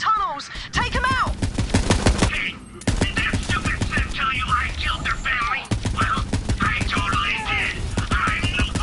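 Gunfire in the shooter game Borderlands 3, rapid bursts of shots crackling through a busy battle mix under frequent character dialogue and music.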